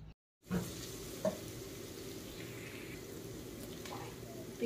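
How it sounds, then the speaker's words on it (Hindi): Onions frying in a pan until soft and lightly browned, a faint steady sizzle with a couple of small stirring clicks, after a brief moment of silence at the start. "बस इसको मैं फ्राई कर लूँगी।"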